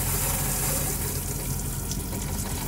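Water gushes steadily from a tap while a Truma Combi boiler is being refilled, a loud, continuous rushing hiss up close with no talk.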